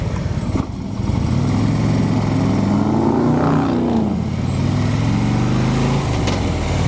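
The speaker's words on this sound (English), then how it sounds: "Pretty bad when the truck is louder than your motorcycle." A truck engine runs loud and steady close by, its deep rumble rising and falling in pitch as it shifts and revs, drowning out a motorcycle ridden out of Washington.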